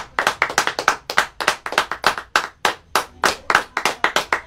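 A small group claps for a rock band, with distinct sharp claps in an uneven, fairly quick rhythm, close and clear with little else heard.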